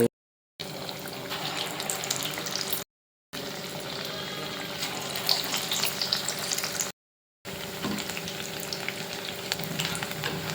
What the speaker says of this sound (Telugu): ఇలా కాగుతున్న నూనెలో ఈ గారెలు ఇలా